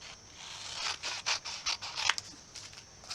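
Scissors snip out paper tabs for a journal, a series of quiet, close crisp cuts and scratchy paper sounds in an irregular rhythm.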